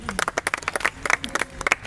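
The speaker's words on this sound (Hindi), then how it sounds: "ताली बजाओ खुशबू कुमारी के लिए" Brief burst of applause from a group of trainee students at a Veer Sainik training centre, scattered uneven claps rising and falling in a short, close, moderately loud patter.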